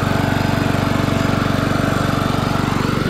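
An early-1980s Snapper self-propelled lawn mower engine idles steadily up close, a loud, even rhythmic chug that holds throughout with no talk over it.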